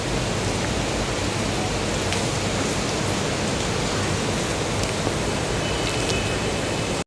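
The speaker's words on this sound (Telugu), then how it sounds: "అందాలా మబ్బు పట్టి ఉంది, వర్షం వస్తుందా రాదా? ఆల్రెడీ స్టార్ట్ అయిపోయింది" Heavy rain pouring during a thunderstorm, a loud, unbroken broadband roar of water with no distinct thunderclaps or voices, cutting off abruptly at the end.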